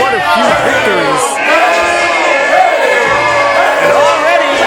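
A wrestling crowd in Orangeburg cheers, whoops and shouts in a loud, continuous roar as a wrestler gets them on their feet, with overlapping voices rising and falling.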